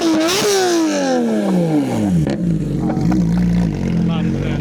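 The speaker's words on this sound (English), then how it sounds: "You couldn't give it a couple of revs for me" A supercar engine in a Silverstone car park revs hard, pitch sweeping up then falling away in a loud, near roar, followed by a second shorter blip and settling idle.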